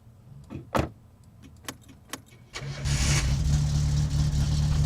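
In the video game My Summer Car, a few sharp clicks and knocks, then a car engine with no muffler starts and settles into a loud, rough, steady idle that drones on to the end.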